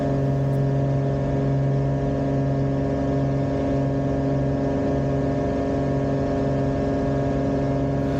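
A Cessna 185 Skywagon amphibian, a heavy 1.5-ton floatplane with a variable-pitch propeller, drones with its engine running steadily, a loud constant hum with strong tonal harmonics and no change in pitch throughout.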